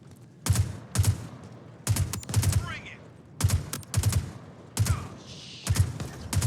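Gunfire in Star Citizen, sharp bursts of shots fired in quick clusters at roughly one-second intervals, loud and close, with faint whooshing effects between volleys and no talk.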